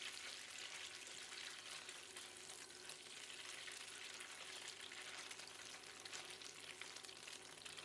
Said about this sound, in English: Fry the tofu for about 2 minutes or until they are slightly brown around the edges.